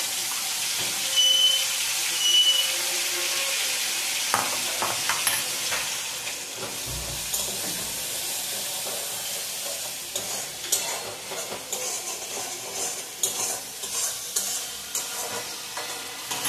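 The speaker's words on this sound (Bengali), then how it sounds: "ফোড়ন দিয়ে আমি নাড়াচাড়া করে একটু রসুন আর কাঁচা লঙ্কা বাটা" Garlic and green chili paste with five-spice tempering sizzles steadily in a hot pan while a spoon stirs and scrapes through it, close and continuous, with occasional louder scrapes and no talking.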